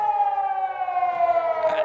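Air raid siren warning of incoming missiles, a loud, close, sustained wail with a slowly falling pitch, heard alone for the whole stretch.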